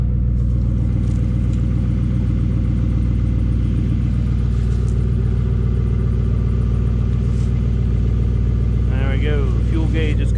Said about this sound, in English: Sounds good for a stock LS1 though.